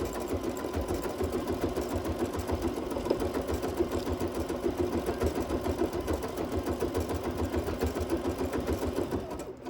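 Sewing machine running a buttonhole stitch around wool applique for a pumpkin garland, a steady rapid mechanical whir and chatter held unbroken for the whole stretch, close and even with no talking.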